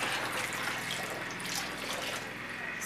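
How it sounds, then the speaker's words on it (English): Cold water runs from a tap into a baby's bathtub in a steady, close splashing stream that lasts the whole time. "It's still a bit hot, so I add more cold water."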